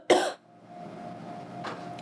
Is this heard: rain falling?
no